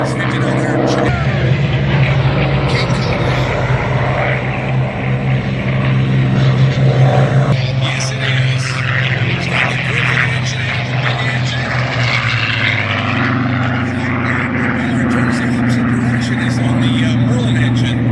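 A P-51D Mustang propeller fighter drones overhead at an air show, its steady engine roar rising and shifting as it passes, with an announcer talking over it throughout.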